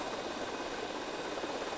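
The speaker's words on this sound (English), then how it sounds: "They all want my sweet helicopter." An RC helicopter flies at a distance, giving a faint, steady rotor and motor whir with no voices.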